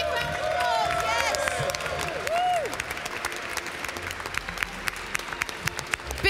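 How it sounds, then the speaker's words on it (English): An audience claps and cheers at the GT World Tour racing award ceremony, with whistles and a whoop over the crowd noise and applause continuing through the stretch with scattered sharp claps. "Big round of applause."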